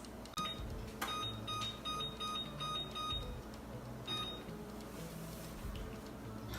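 A few sharp electronic beeps come from an oven timer as its buttons are pressed to set six minutes, spaced irregularly over a steady low background hum, no talking.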